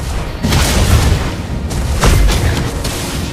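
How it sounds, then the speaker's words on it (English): A turret blows up in the mobile game Mobile Legends, with a loud, booming explosion over dense battle noise. A second heavy burst comes about two seconds later. "Your team destroyed the turret!"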